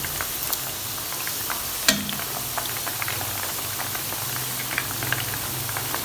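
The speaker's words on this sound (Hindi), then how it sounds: "कोफ्ते हमारे मीडियम आंच पे फ्राई हो रहे हैं।" Chicken koftas fry in oil over medium heat with a steady, close crackling sizzle and one brief clink of a utensil partway through.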